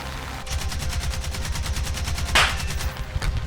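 Tank gunfire in War Thunder: a sustained, rapid burst of automatic fire with evenly spaced loud cracks over a low engine rumble, plus one brighter blast partway through.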